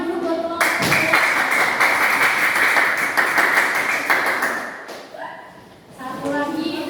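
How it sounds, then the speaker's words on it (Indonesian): A class claps for a student group after a presentation, a dense steady round of applause that holds for about four seconds, then fades as voices resume. "tepuk tangan dulu buat kelompok 2."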